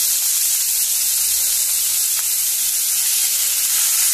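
Onion and tomatoes sizzle in hot oil in a pan for a Goan egg curry, a loud, steady frying hiss close up, continuous and alone.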